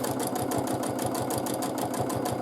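A sewing machine doing free motion quilting of feathers, its needle running in a fast, steady, even rhythm, close and continuous, with no talk.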